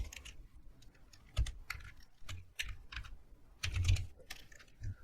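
Typing on a computer keyboard, a close, quiet run of irregular key clicks with a few heavier strokes mixed in and no voice.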